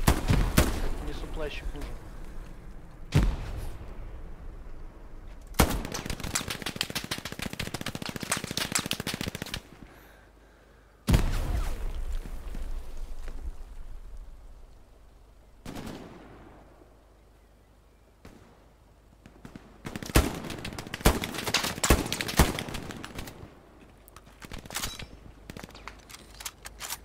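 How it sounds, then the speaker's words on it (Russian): Bursts of gunfire in the World War II shooter Hell Let Loose, loud clustered volleys and rattling shots with quieter gaps between them, with a voice speaking briefly. "Можно услышать, что вот оттуда стреляют"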